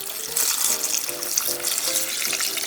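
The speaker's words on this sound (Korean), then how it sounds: "국물을 쪼르륵 부어주세요." Red kimchi brine for nabak water kimchi of radish and napa cabbage poured into a full container, a steady liquid trickle and splash close by, filling the whole stretch without talk.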